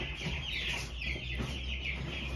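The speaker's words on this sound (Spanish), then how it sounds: "Fíjense con qué velocidad la gallina come" A broody hen eating clucks softly in short bursts against a steady background hiss, with faint pecking sounds, fairly quiet and close.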